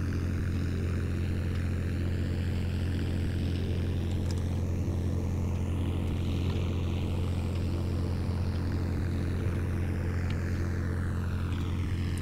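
A steady propeller airplane drone in a Roblox plane game hums continuously and evenly, a constant engine tone with no voices.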